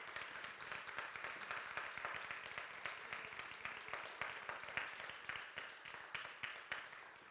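Audience applause in a church, a steady, fairly faint wash of many hands clapping together for several seconds.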